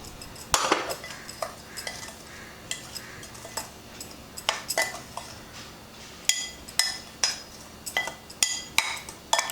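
Sugar being stirred into a roasted gram flour sweet mixture, with quiet, irregular scraping and clinking of a spoon against a metal vessel, a few sharper knocks near the end, no talking.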